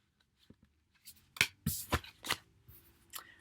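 A French tarot card deck is shuffled close by in a quiet room: a few soft taps, then a quick burst of crisp riffling card flicks over about two seconds.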